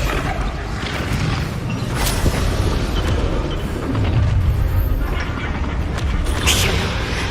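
Spell explosions from the Hogwarts Legacy video game thump and crackle over a dense, busy game mix, with a few sharper bursts standing out near the middle and toward the end.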